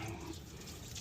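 Fluid drains out of the water pump opening on a 2004 Chevy Tahoe, a brief steady close trickle and splatter, the coolant reportedly plain water.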